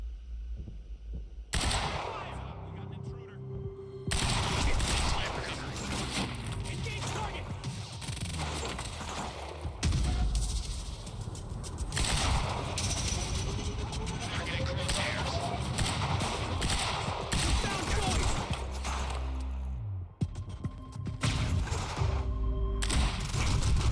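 Gunfire in the Quantum Break video game, pistol-strength rounds cracking in dense repeated shots amid loud game effects and rumble, with talk over parts of it.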